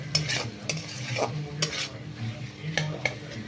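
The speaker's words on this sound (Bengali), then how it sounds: "এবার এটাকে ভালো করে নেড়ে চেড়ে" Ingredients for basmati fried rice sizzle in a hot pan while a spatula stirs them, with sharp scraping strokes against the pan at a brisk, irregular rhythm.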